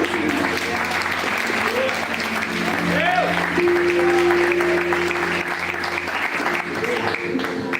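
Steady applause from an audience, continuous and fairly loud throughout, with some background voices mixed in.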